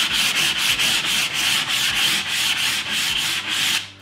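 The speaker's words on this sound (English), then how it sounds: "the idea is that we sand down all the surfaces just to make it nice and smooth." Sandpaper rubs back and forth over a wooden medal rack in rapid, even strokes, a loud close rasping rhythm of about three strokes per second that stops abruptly at the end.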